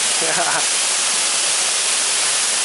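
Waterfall at Khao Kho during abseiling, a steady broadband rush of falling water close to the microphone, continuous throughout, with a brief voice near the start.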